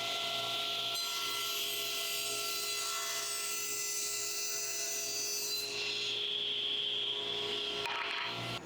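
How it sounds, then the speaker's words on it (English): A table saw rips through wood fed with a push stick, the blade's steady high whine holding through the whole cut before easing near the end, close and loud with no voices. "Another great cut,"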